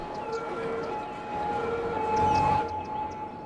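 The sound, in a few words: fire truck siren in video game Cities: Skylines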